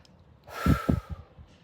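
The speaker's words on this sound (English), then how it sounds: "I'm going to have some breaths" A person taking a few deep calming breaths after an agitating bike ride, airy inhales and exhales with short puffing snorts, close and alone.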